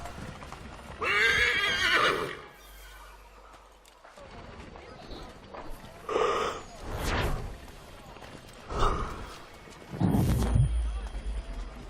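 Horses gallop and neigh in Assassin's Creed 3, with hoof clatter and several loud whinnies rising in bursts over the game's background.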